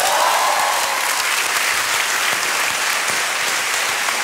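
A studio audience at a Swedish music television show gives loud, sustained applause. Many hands clap in a dense, even wash from start to finish, with no speech over it.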